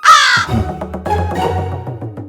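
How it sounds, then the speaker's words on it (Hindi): A crow caws loudly nearby, a harsh drawn-out call followed by a few shorter rasping caws. "कौवे की तरह आवाज करती थी।"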